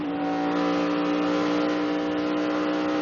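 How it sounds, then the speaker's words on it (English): Close, loud engine of a NASCAR stock car at the 2011 Heluva Good Sour Cream Dips 400, droning steadily with strong harmonic tone and subtle swells as the throttle eases and opens over three seconds, no voices. "Now you heard him get in and go, wah, wah, like that."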